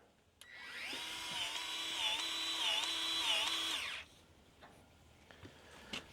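Milwaukee M12 cordless grease gun running steadily for about three and a half seconds with a high whining motor and slight pitch wobble, then stopping, followed by a few quiet clicks and handling noises, close by.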